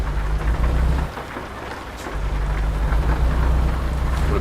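Steady rain hammers down in American Truck Simulator with deep rolling thunder rumbling underneath, loud and close, dipping briefly before the storm swells again.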